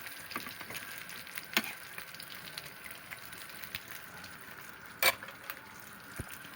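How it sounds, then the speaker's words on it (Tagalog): Ingredients for Filipino balatong frying in a pan: a soft, continuous sizzle with scattered crackles and a couple of sharper pops or utensil clinks, fairly quiet and close, with no talking. "Sahog muna na prito para medyo uminit."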